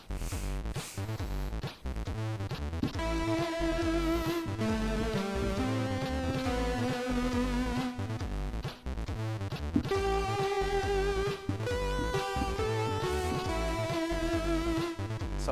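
Game music played on a Commodore 64 synthesiser: a loud, continuous chiptune with a busy bass line, fast arpeggiated chip notes and a bright lead melody, without pauses.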